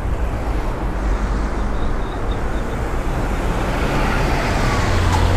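Car traffic on a narrow city street in Nagasaki, Japan, a loud, steady roadway rumble of passing vehicles close by, with no talk.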